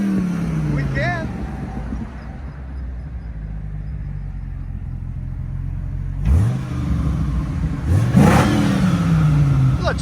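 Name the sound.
American V10 engine revving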